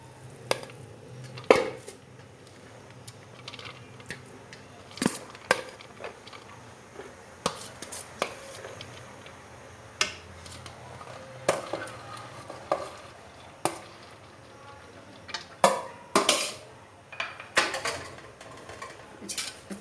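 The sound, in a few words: stirring rice into sugar syrup in a pot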